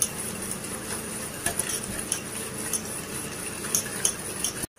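A sugar, cocoa, coffee and milk mixture is stirred close up, with repeated spoon clinks and scrapes against the pot over a faint steady hiss, ending abruptly, no talking.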